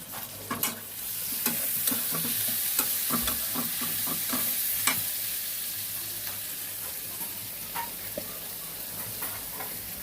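Dried fish, shutki, frying in a pan and being stirred, with a constant sizzle under repeated scraping and clinking strokes of a spatula, busier at first and easing into steady frying.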